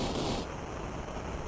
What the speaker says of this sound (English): victory gunshots, because America